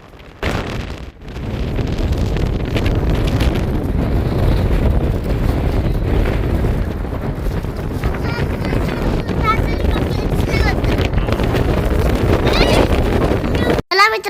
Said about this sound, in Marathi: तिकडं लय वारं सुटले.